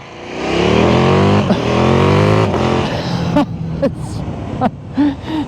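KTM Superduke 1390 R Evo motorcycle engine in track throttle mode, loud rising acceleration through several gears with a sharp shift, then fainter engine note and wind noise as a rider gasps and speaks.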